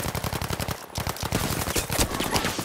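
Rapid automatic gunfire in the video game Battlefield 5: close, dense bursts of shots, broken by a short pause and then resuming.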